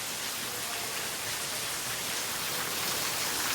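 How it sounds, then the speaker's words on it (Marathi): Heavy monsoon rain pours outdoors at the hill station of Amboli, a dense, even hiss of downpour that holds steady without pause and with no voices. "बाहेर पाऊस पडता मस्त पैकी धो धो तुफान पाऊस."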